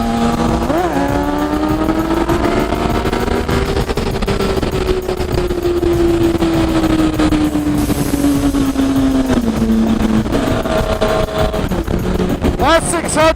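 A Yamaha FZ-09 (MT-09) motorcycle engine drones loud and close during a ride, its pitch climbing and sagging as the throttle and gears change, with steady wind rush throughout.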